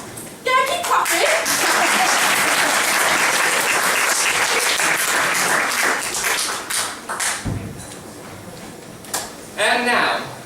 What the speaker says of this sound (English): Yeah, keep clapping.